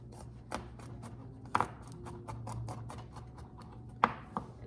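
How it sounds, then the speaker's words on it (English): A knife chops garlic on a cutting board in quick, light, irregular taps close by, with two sharper, louder strikes standing out among the chops. "chop up our garlic here"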